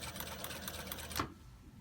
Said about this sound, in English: It makes it so much easier to sew it with that special foot.